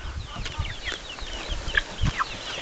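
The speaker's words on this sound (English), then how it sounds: "Here are chickens, or baby chickens, in the baby chicken coop." Baby chickens in a coop cluck and peep softly, with scattered chirps and low clucks at close range and no talk.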